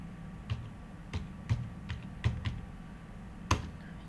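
Search-term typing on a computer keyboard, a handful of separate soft key taps spaced irregularly over a few seconds against a quiet room hum, no talking.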